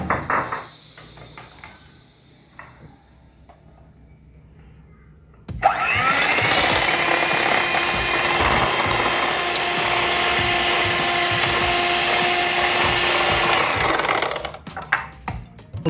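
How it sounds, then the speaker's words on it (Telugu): Egg yolk is whisked for orange ice cream; after a quiet start, a loud, continuous whirring and rattling whisk sound kicks in about five seconds in and runs steadily for roughly nine seconds before stopping. "ఇక్కడ ఎగ్ యోక్ తీసుకున్నాం కదా, దీన్ని మనం ఇప్పుడు విస్క్ చేద్దాము."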